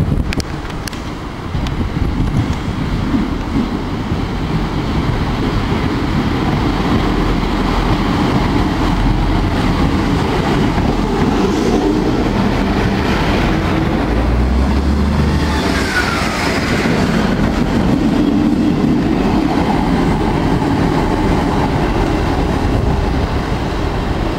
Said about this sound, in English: Another East Midlands coming in from Lincoln.